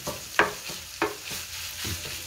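Mild Tennessee Pride pork sausage cooking in a pan, with a steady low sizzle broken by a few sharp scrapes of a utensil stirring and breaking up the meat, close and moderately quiet.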